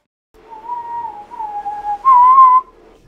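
A person whistles into a microphone, a clear sustained tone held in two gliding phrases before jumping to a louder, higher note, close and alone with no talking.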